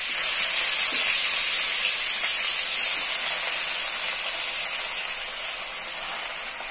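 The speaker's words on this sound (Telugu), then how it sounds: "ఇప్పుడు ఈ కడిగి క్లీన్ చేసి పెట్టుకున్న గోంగూరని దీంట్లో వేయాలి." Washed gongura leaves hit hot oil in a pan, giving a loud, steady steamy hiss that fades slightly over several seconds, with no voices.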